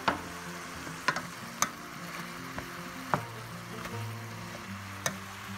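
Spinach wilting with sautéed onions in a pan, a steady soft sizzle broken by several sharp clicks and scrapes of a utensil stirring against the pan, close and without talk.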